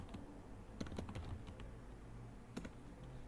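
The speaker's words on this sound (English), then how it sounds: "if I can type that" Quick bursts of keystrokes on a computer keyboard, a few scattered clicks then a short cluster, faint and close with no talking.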